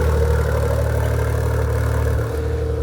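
Maserati GranCabrio Trofeo engine running with its exhaust valves open, a steady, loud, close idle rumble with a slight dip and shift near the end, no voices.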